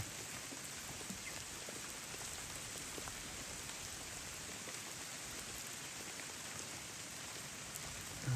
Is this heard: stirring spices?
no